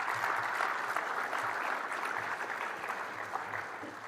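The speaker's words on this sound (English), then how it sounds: "A big round of applause for all of our sponsors for this morning's event" A room of attendees at a mayor's breakfast event claps for the sponsors, a dense, steady applause with scattered sharp claps that fades slightly toward the end.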